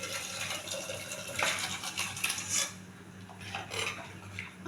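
Sambar poured a little at a time into a clay pot: soft clinks of a ladle against cookware with gentle liquid splashes, quiet and close, no talking.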